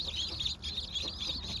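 Chickens cluck and a rooster calls close by, a steady run of short clucks with no talking.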